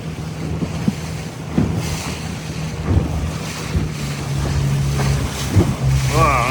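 An inflatable boat crosses a choppy sea on the way to Dartmouth, with a steady outboard engine drone, waves slapping the hull and heavy wind buffeting the microphone, loud and continuous throughout.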